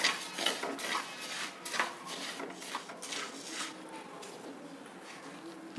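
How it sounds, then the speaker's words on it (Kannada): Rice dry-roasting in a pan for Sankranti pongal, stirred with a utensil that gives repeated scraping and clinking strokes close by, some louder than others, without speech. "ಈಗ ಅಕ್ಕಿನ ಸ್ವಲ್ಪ ಹುರ್ಕೊಳ್ತಾ ಇದ್ದೀನಿ"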